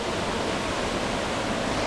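A waterfall on a rock-pool creek pours in a steady, close, broadband rush of water that fills the whole moment without pause.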